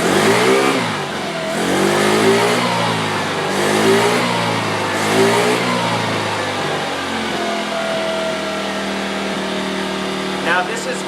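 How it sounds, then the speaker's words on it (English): A scooter engine fitted with a racing CDI revs up several times in surges, climbing to a high, strained pitch at the point where a stock limiter would cut in, then settles. The engine is close and loud. "I'm going to rev it to where the limiter would be if you didn't have a Racing CDI."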